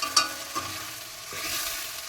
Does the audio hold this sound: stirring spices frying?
yes